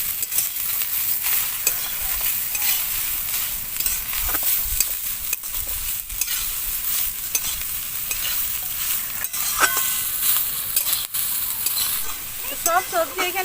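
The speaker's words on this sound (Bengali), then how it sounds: "বাঁধাকপি, সেই সব কিছু আমি হালকা করে ভেজে নেব।" Cabbage, ginger and other vegetables sizzle and fry in a pan while being stirred for veg momo filling, a steady close hiss with frequent scraping and clinking of the spatula throughout, no talking.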